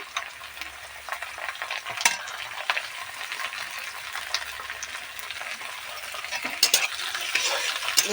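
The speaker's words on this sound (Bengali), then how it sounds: "মানে রসুনটা একটু ভাজা ভাজা করে নিই" Chopped garlic sizzling with onions in a frying pan during preparation of a thin mutton curry, a steady soft crackle with occasional stirring scrapes, fairly quiet and close, no voices.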